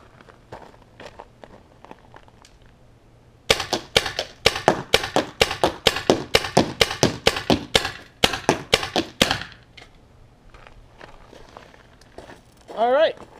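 A mag-fed paintball marker fires GI 3-Star paint in a rapid string of about twenty sharp, loud pops over several seconds, with quieter moments before and after and a brief voice at the end.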